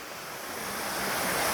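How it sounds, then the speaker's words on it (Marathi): Water pours over a small check dam in a forest stream, a steady, dense rushing roar that fills the whole moment and swells slightly louder toward the end. "पाणी इकडून पडते ना बंधाऱ्यातून मस्तपैकी त्याचा आवाज येत असेल"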